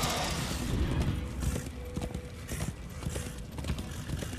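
Horse hooves in the Darksiders II video game, a run of clip-clopping steps, moderately loud and near, over low game ambience with no speech.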